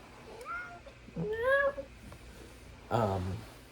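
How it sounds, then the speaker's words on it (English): A very old senior cat meows up close, giving a drawn-out rising and falling meow followed by a shorter second call after a pause. "it's gonna be the cat that you guys have been hearing all video"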